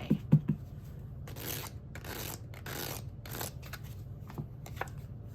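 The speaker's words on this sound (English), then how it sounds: "I also like to just pull here from my unicorn playing cards." A deck of unicorn-themed playing cards is shuffled up close. A few soft taps come first, then a run of quick riffling, flicking bursts, with a fainter slide near the end.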